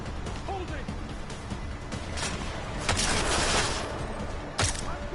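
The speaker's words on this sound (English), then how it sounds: "I'm gonna take out my pistol now" Pistol gunshots in the video game Deus Ex, a few sharp cracks scattered across a noisy, busy backdrop, one louder burst near the middle, with someone talking over the action.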